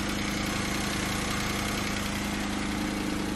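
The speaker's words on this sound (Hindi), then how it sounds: "हमने कर दी अपनी गाड़ी स्टार्ट इंजन की आवाज़ अभी आप सुन सकते हो कितनी है" A Maruti Suzuki Wagon R's small three-cylinder engine idles steadily with a lumpy, slightly uneven rumble and light vibration, close by and without pauses.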